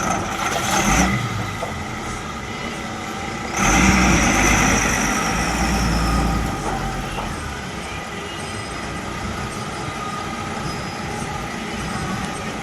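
A truck engine idles steadily at a sugar factory, a low continuous drone with a brief louder surge partway through, with no talk over it.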